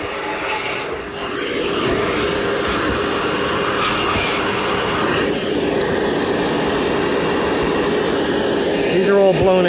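A Bauer shop vacuum blowing air through hot tub jets while winterizing the tub, a steady loud whooshing roar that runs nearly unbroken, with a brief dip near the start and a rising tonal whine at the end.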